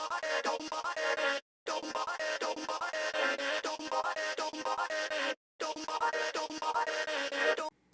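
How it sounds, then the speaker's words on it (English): Vocal chop loop made from a sung hook and run through a Reason BVX vocoder, giving buzzy, synthetic chordal stabs in a repeating pattern with two short silent breaks, played alone at moderate level. "I ran that into the Reason vocoder, the BVX, and I got this sound."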